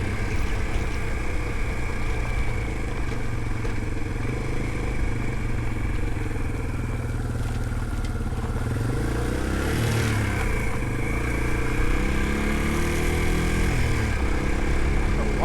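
A Yamaha TW200 air-cooled dual-sport motorcycle climbing Edom Hill in the Coachella Valley, the single-cylinder engine droning continuously with shifting revs and some clatter, loud and close throughout.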